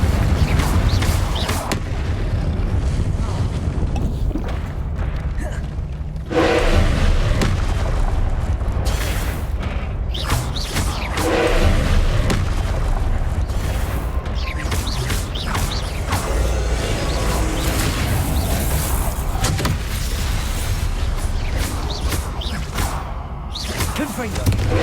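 Confringo blasting spells in Hogwarts Legacy, a string of booming magical explosions mixed with whooshes and mechanical clatter, loud and repeated throughout, with an occasional spoken incantation over them.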